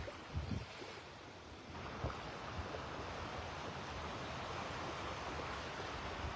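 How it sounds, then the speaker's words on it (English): Sea breeze blows steadily across the beach at Delnor-Wiggins in North Naples, Florida, a broad rushing wash with a few gusty bumps at the start and surf mixed in. "A little bit of a breeze blowing"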